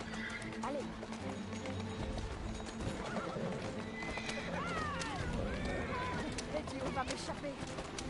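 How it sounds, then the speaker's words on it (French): Several horses neigh and gallop with clip-clopping hooves in the Assassin's Creed Syndicate video game, the whinnies rising over steady hoofbeats while someone talks at the same time. "Le retour des chevaux en adamantium."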